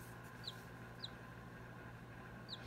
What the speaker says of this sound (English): We'll go back to these cute little chicks one more time, making their lovely little sounds.